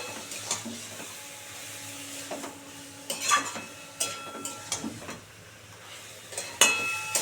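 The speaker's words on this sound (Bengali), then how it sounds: "এবার দিয়ে শুধু আমি নাড়াচাড়া করব" Fish and taro leaf curry stirred in a pan, with scattered light clinks and scrapes of the utensil over a faint sizzle.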